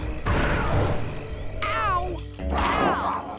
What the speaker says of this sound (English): Got the wild cat.